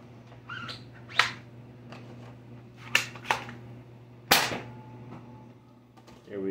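A Nerf blaster fires several sharp, faint snapping pops at irregular intervals, each a quick click-like burst over a quiet background hum.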